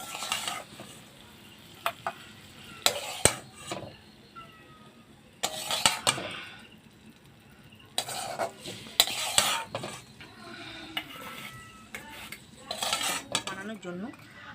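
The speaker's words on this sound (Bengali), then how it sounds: "এবার আমি একটা পাত্রে এটাকে তুলে নেব।" A spoon scrapes and clinks against a pan as cooked keema is scooped into a bowl, with intermittent metallic knocks and clatters separated by short quiet gaps. No one speaks.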